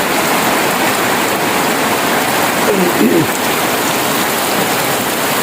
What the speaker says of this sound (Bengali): প্রচুর বৃষ্টি এখানে।